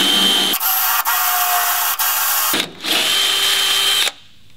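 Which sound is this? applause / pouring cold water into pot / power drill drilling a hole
power drill drilling a hole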